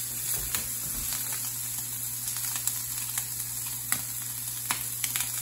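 Sausage browns in a hot pan with a steady, close sizzle, punctuated by small pops and scrapes of stirring, under a constant low kitchen hum and no talk.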